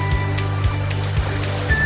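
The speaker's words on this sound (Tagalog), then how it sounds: "Ang taas ng ulan." Heavy typhoon rain pours steadily in a broad, constant wash of water noise, with a few louder low splashes or gusts at intervals, close and dense throughout.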